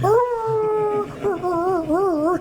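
A person imitates a dog's howl, a loud sustained wavering vocal tone that rises and falls in pitch, with a few brief breaks, close and alone.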